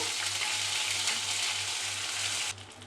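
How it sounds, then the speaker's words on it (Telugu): Ginger garlic paste sizzles loudly and steadily in a hot pan while a brinjal masala curry is cooked, the frying noise continuous and close, then dropping away abruptly near the end. "అల్లం వెల్లుల్లి పేస్ట్ పచ్చివాసన పోయే వరకు ఫ్రై చేసుకోవాలి"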